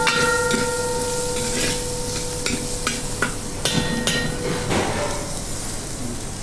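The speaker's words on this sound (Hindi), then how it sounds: "चॉप अनियन को प्रॉपर सौते कर देंगे" Chopped onions sautéing in a pan for Rajasthani papad paneer sabzi, a steady close hiss of frying with occasional spoon stirs and clinks against the pan, no talk.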